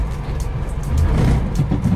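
Barkas B1000 van pulling away in first gear, heard from inside as a low engine drone and rumble that swells slightly as it moves off, with light knocks, no talking.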